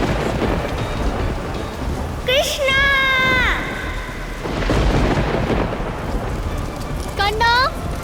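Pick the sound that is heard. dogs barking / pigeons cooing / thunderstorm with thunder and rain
thunderstorm with thunder and rain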